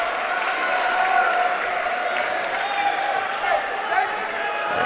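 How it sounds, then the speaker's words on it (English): A gym crowd at a men's college basketball game applauds the team manager, steady clapping and murmur holding evenly for several seconds with no voice standing out. "the manager for the basketball team getting a round of applause"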